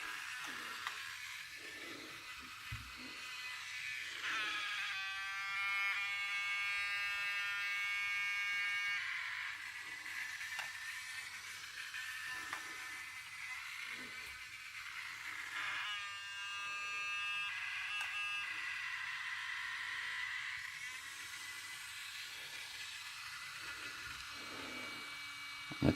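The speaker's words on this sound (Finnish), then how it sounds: "tirinää sieltä kuuluu aina kun kääntelee." A DJI Spark drone gives off a thin, high electronic whine when turned, rising in tonal bursts of a few seconds each that come and go over a low hum.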